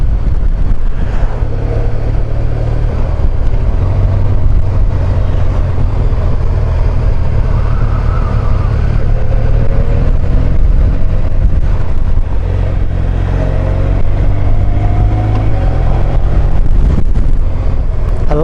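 A car passes on a freshly resurfaced road through woods leading into Plan de la Tour, its sound rising and fading beneath constant loud wind buffeting and engine drone.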